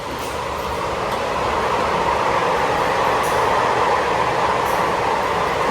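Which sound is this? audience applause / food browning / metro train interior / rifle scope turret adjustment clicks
metro train interior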